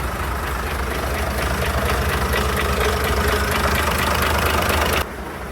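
A Class 108 diesel railcar engine idles loudly and steadily with a faint knocking rhythm, then the sound drops abruptly near the end.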